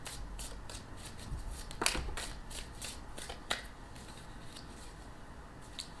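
A deck of cards shuffled by hand for a yes/no reading, a steady close riffle of rapid papery flicks with a couple of sharper snaps, no voices.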